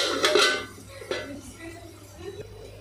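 A lid set onto a pot of tomato curry, giving a few light metallic clinks and clanks near the start followed by fainter clatter over a low background hum.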